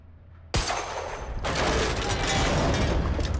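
Gunfire shooting a destructible object in Quantum Break: a sharp first blast, then a dense sustained burst of rapid shots and breaking debris, loud and close.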